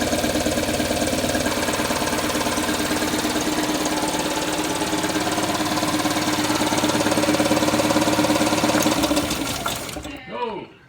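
An engine runs at a steady, even rhythm with no misfire, its close, loud mechanical drone holding constant for about ten seconds before it winds down and stops.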